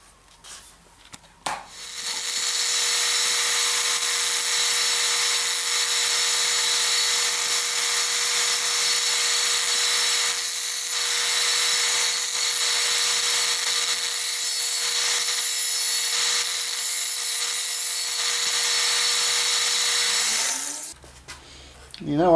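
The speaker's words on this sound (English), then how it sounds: "I think we want to sand that off now to make all that black disappear." A power sander runs steadily for about twenty seconds, grinding black paint off a part of a Series 1 V8 Land Rover, starting and stopping abruptly with a close, constant whirring buzz.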